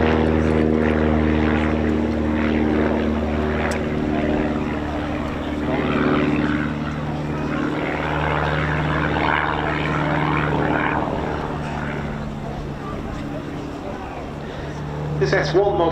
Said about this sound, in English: This S1 model is one of the single-seat versions of the Pit Special.